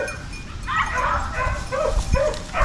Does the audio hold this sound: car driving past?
no